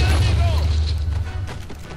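Explosions boom in the 007 Quantum of Solace video game, a heavy blast opening loud and then trailing off into scattered crackling debris, with a voice talking over it.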